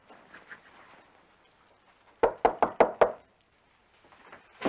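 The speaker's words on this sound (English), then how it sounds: "I was just gonna knock." Five quick, firm knocks on a door ring out close and sharp in an evenly spaced burst, set between stretches of faint background sound.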